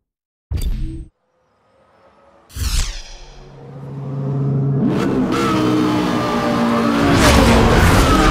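A Lamborghini Gallardo in Need for Speed Hot Pursuit Remastered gives a couple of short loud bursts, then its engine climbs into a sustained, rising rev that holds near and loud to the end, with hints of tire squeal.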